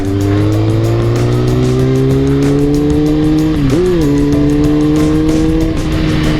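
Honda F4i sports motorcycle engine riding through a roundabout, a loud, steady, close engine drone that slowly rises in pitch, then dips and recovers briefly midway before settling back into a continuous hum.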